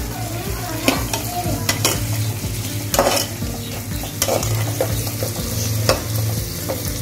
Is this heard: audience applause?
no